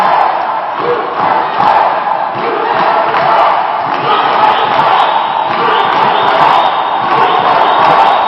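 Crowd at a women's dodgeball world championship match between the USA and Australia in Cancun keeps up loud, continuous cheering and rhythmic chanting, voices massed together in a big hall with no single speaker standing out.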